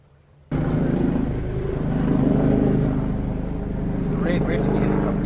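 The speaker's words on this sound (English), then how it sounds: "Red rescue helicopter." A red rescue helicopter passes overhead in a botanical garden, its loud steady rotor and engine rumble starting abruptly and holding for several seconds.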